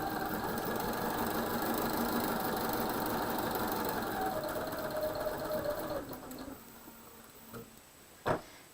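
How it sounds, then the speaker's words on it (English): A domestic sewing machine stitches quilt pieces for star and tulip blocks in a steady, close, continuous whir for about six seconds, then slows and stops, leaving a few faint clicks and one sharp tap. "So I sewed up to the pin"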